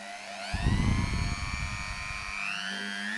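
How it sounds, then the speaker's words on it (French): A TECCPO mini drill whines with a high, layered motor tone that shifts pitch as its speed changes, with a heavier rumble near the start, heard up close and alone. "Petit test des différentes vitesses de fonctionnement"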